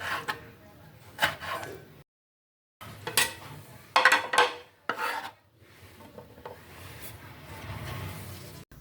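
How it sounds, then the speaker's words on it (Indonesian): A knife chops half of a large tomato into small pieces on a cutting board, giving irregular scraping and tapping strokes in short bursts with a pause partway through, fairly quiet and close. "Lalu ini dipotong-potong kecil."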